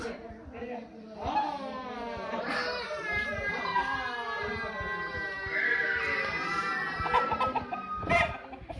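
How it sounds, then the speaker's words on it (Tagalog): Chickens cluck and call on a rural farm, a cluster of bright, overlapping squawks and cackles near the listener, with children's voices and chatter mixed in the background. "Ayun na yung mga manok."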